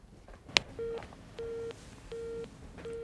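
A telephone line gives a busy tone after the caller hangs up: a sharp click, then evenly spaced beeps, four steady pulses with short gaps, faint and alone.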